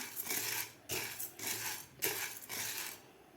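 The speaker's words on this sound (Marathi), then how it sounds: "साबुदाणा आपल्याला व्यवस्थित भाजून घ्यायचा आहे मंद गॅसवर आपल्याला साबुदाणा भाजून घ्यायचा आहे" Sago pearls roasting in a pan over a medium gas flame are stirred in four rhythmic bursts, each a dry rattling, scraping rush of grains against metal, with short pauses between.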